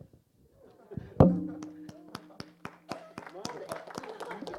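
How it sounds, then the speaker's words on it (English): Hands clapping in a group at a live-streamed ministry school gathering, one loud clap then a string of scattered, uneven claps, mixed with voices talking. "We're clapping in advance."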